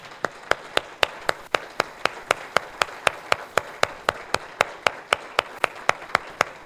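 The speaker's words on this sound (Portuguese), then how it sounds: "Vamos aplaudir a Jesus." A church congregation claps together in a steady, quick rhythm, sharp unison beats evenly spaced about four per second, with no talking over them.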